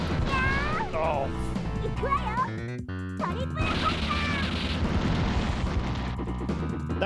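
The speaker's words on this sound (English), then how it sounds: "Nice explosion." A shoot 'em up video game explosion crashes loudly amid dense synth music, rapid shooting effects and busy electronic tones, with a sharp burst near the middle of the action.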